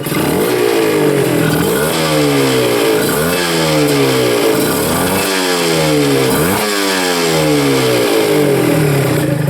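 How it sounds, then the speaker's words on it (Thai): A Honda NSR150R motorcycle engine running loud and close, revved repeatedly in rising and falling surges, with a worn bearing rattle in the mix. "็เสียงเครื่องก็มีเสียงลูกปืนดัง"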